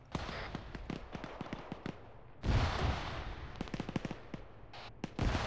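Gunfire in a military video game: sharp single shots and short bursts crack at irregular intervals, some near and punchy, others more distant, with a loud rushing blast midway and a steady ambient bed.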